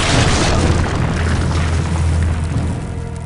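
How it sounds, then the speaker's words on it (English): A flare gun fires in the Wild Grinders video game with a loud, broad whooshing burst that carries through the whole short clip and tapers slightly at the end, with no talking. "that's a flare gun."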